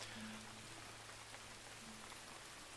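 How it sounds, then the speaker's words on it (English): Rain falls steadily in the Farthest Frontier village-building game, a soft, faint, continuous hiss of drops on surfaces with a low steady hum beneath, no voices. "And here comes the rain."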